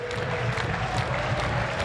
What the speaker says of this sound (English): Massive crowd here to see the lads on.